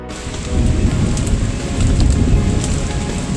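Heavy rain pours down in a dense, steady roar, with no voices.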